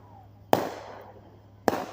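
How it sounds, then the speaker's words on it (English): Fireworks at a July 3rd show go off as two sharp, loud booms about a second apart, each trailing into a fading echo. "that's a long time for constant fireworks"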